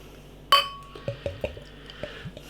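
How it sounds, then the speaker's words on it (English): Brewdog vs Buxton Deep Slumber rye porter is poured into a glass, starting with a bright clink of glass and followed by a run of soft glugging gulps close by. "As we're pouring this lovely looking rye porter"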